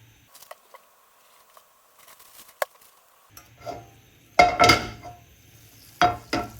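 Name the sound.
pan being put on the stove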